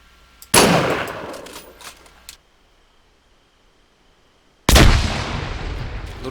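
Explosions in Arma 3 with the IFA3 mod come as two loud, close blasts, the first rolling off into a ringing tail, followed by silence before the second heavy burst hits and lingers.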